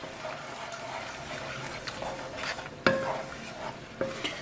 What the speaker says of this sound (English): So now I'm going to add a bit of milk, and we'll just go ahead and stir this.